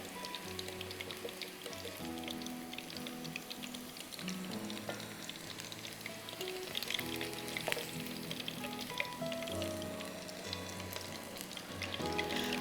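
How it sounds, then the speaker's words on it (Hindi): Chicken pieces fry in hot oil, crackling and sizzling steadily throughout, with occasional stirring and faint clinks from the pan. "मैं ये पूरी चिकन को वापस फ्राई कर रही हूँ"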